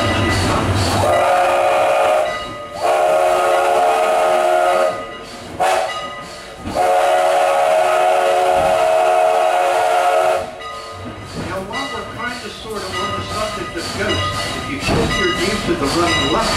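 Strasburg Railroad steam locomotive No. 89 blows its whistle in loud, sustained blasts broken by short gaps, then gives way to the rumbling clatter of the moving train.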